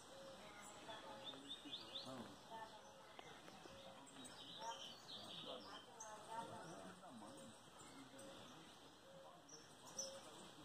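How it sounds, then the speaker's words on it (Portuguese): A Pitiguari songbird calls outdoors in the bush in Brazil, bright chirps carried over steady birdsong from other birds, with someone talking throughout. "O Pitiguari já tá esturrando lá"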